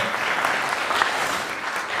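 A church congregation at a Sunday service gives the children a big round of applause, a dense, even wash of many hands clapping steadily at moderate volume for the whole stretch.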